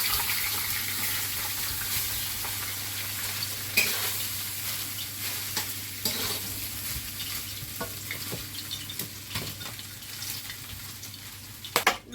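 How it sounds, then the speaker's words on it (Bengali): Rice frying in oil with whole garam masala and bay leaf gives a continuous close sizzle with scattered clicks and scrapes of stirring, growing busier toward the end, with no voices. "সব তেলের মধ্যে একটু গোটা গরম মশলা তেজপাতা ভাতটা দিয়ে দেবো"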